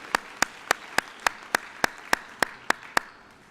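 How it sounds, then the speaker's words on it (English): A few sharp claps repeat at a steady, even pace, about three per second, fairly close and alone, in a community gathering hall at a student service fair. "let's give them another round of applause for their service to our community"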